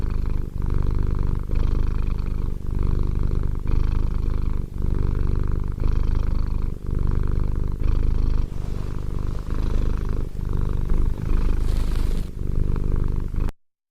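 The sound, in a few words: cat purring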